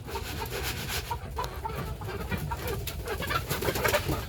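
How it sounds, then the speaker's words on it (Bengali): Roosters and other poultry on a farm, a continuous mix of clucks and coos with scattered crowing-like calls, fairly close and steady without talk. "এই যে মোরগগুলো দেখেন, মোটামুটি বেশ ভালো ভালো মোরগ।"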